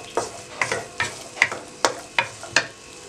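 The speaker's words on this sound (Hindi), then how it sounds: "हल्का सा फ्राई कर लें।" Chillies and vegetables lightly frying in a pan for chicken vegetable noodles, a soft sizzle punctuated by seven rhythmic stirring scrapes about every half second, close and alone.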